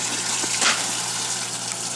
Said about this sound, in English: I'm going to run the water till it gets really hot